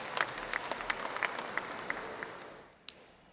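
Applause from an audience at a Hindi poetry recital, steady clapping throughout with sharp individual claps standing out, fading near the end with one last clap.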